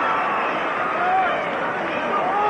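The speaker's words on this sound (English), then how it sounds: "student body from each school trying to rile each other up" Dense crowd roar of high school students from Benson and Madison cheering and taunting each other at a 1987 night football game, a steady wash of voices with brief shouts.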